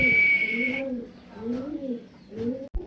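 Pigeons at a breeding farm, fancy breeds such as German shield, velvet shield and Iranian, coo close by in low, rolling calls that repeat several times. A brief high tone is heard at the start.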